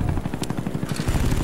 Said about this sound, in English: I got into the chopper gunner right here